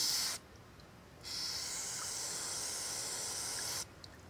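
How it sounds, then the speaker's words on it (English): A steady aerosol spray hisses for a few seconds onto the edge of a Bendix Stromberg WWC 3-262 carburetor, close and fairly loud, stopping briefly near the start and cutting off near the end. "Can you spray some on that edge there?"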